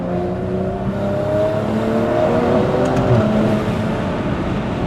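A Stage 2+ tuned G20 BMW M340i pulls hard up a mountain road in Malaysia, its engine giving a loud, steady, continuous drone heard from inside the car with no talking.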